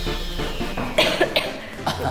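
A person in an office gives a few short, sharp coughs close by.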